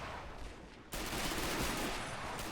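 Rifles and Bren light machine guns fire in a WW2 battle game with British Home Guard infantry, a dense continuous crackle of distant gunfire that swells sharply louder partway through and stays steady.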